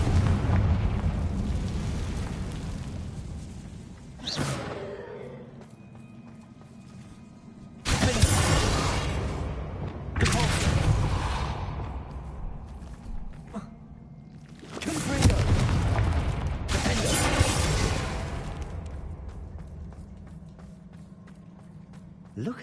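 Booming fire-spell blasts from the Confringo curse in Hogwarts Legacy, several loud bursts spaced a few seconds apart, each with a roaring crackling tail under game ambience.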